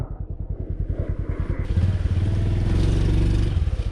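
A motorcycle engine idles with a rapid, even thump, then revs up and holds a loud, steady drone while the bike descends a muddy slope in the rainy season, heard close with no talk.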